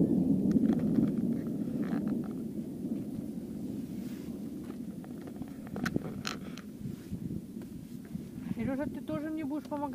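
Rolling thunder on a countryside outing by a river as a hailstorm approaches: a long, low, continuous rumble that swells and fades, with people talking over it and wind buffeting the microphone.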